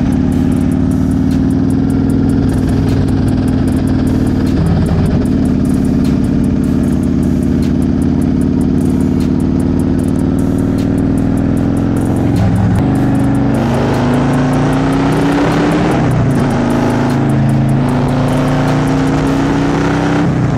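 Afternoon road traffic heard from a motorcycle rider's position, a loud continuous rumble of car engines idling and accelerating, with tones rising as vehicles pull away and pass close by.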